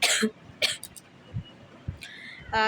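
A person coughs a few times in short bursts, with quiet breathing and faint sounds between.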